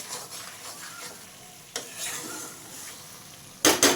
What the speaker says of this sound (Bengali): এবার ভালো করে নেড়ে চেড়ে কষিয়ে নিচ্ছি, যাতে তিলের আর বাদামের কাঁচা গন্ধটা দূর হয়ে যায়।